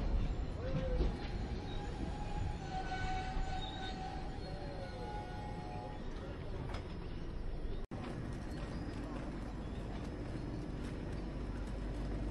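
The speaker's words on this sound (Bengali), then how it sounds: "যাই হোক, নিউ ময়নাগুড়ি থেকে ট্রেন ছাড়লো।" The Uttarbanga Express pulls out of New Moynaguri station with a steady, rumbling rail roar, faint squeals and rhythmic clacking of wheels over track joints, heard from on board at a constant, fairly loud level.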